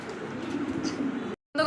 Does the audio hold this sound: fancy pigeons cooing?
yes